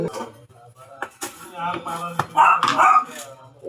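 A dog barking angrily in a home kitchen, with sharp barks mixed with growly yips, close and loud, under a voice.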